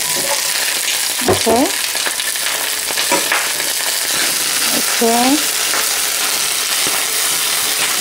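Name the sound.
broccoli frying in olive oil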